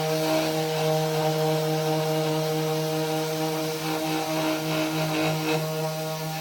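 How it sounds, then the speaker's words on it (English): Power sander working over the body of a Cadillac Coupe DeVille in a steady, continuous drone with a strong motor hum, running evenly without pauses and no voices. "So I'm going to continue sanding this down and work my way around."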